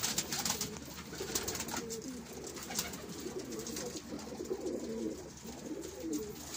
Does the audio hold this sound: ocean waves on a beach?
no